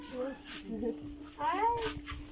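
Dogs in a Filipino home give whimpering, whining yips in short bursts close by, mixed in with people talking.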